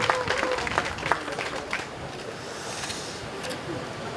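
Audience claps for a regional free economic zone commissioner at a groundbreaking ceremony for a food-tech robot research center; a scattered burst of clapping in the first seconds thins out into faint room noise.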